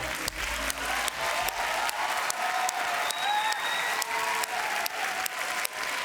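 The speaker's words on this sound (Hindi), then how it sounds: "हमारे टॉप 10 के लिए जोरदार तालियां हो जाए" Studio audience on a televised Indian kids' singing show breaks into steady, loud applause that fills the whole stretch, dense clapping with a faint crowd murmur beneath.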